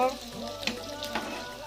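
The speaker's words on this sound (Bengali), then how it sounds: "দেখো ভাজা ভাজা হচ্ছে" Chillies and sliced onions fry in a wok of hot oil, a soft steady sizzle with a couple of brief stirring scrapes, fairly faint and close.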